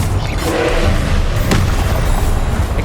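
A Confringo blasting curse explosion in Hogwarts Legacy, a loud, dense boom that swells and rumbles through the short clip, with a brief sharper burst midway.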